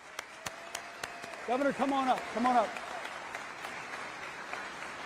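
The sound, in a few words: applause for a new recruit after the oath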